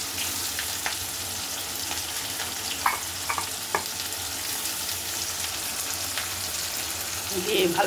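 Spices stir-fried (bhuna) in a hot pan give a steady, close sizzle throughout, with a few light scrapes of the stirring utensil and a slight rise near the end.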